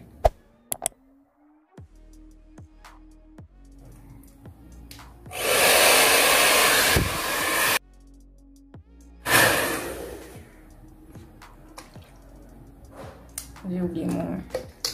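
An Auchan Pro hair dryer blows while hair is being styled, running in two loud, steady bursts of rushing air separated by quieter moments with a voice talking in between.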